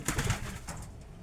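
Young racing pigeon squeakers coo softly in a small aluminium loft, a few low, rolling coos close by against a light rustle, with no talking.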